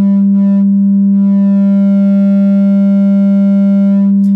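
A subwoofer in a 3D printed ported enclosure plays a loud, steady low sine test tone, sustained and unwavering, with slight added harmonics that hint at port chuffing, alone without any talk.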